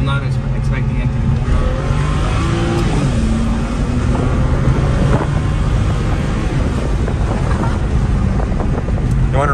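A BMW E90 335i with an N54 engine revs hard in first gear and climbs in pitch as it pulls away, with wind buffeting over the roar and a voice speaking faintly underneath.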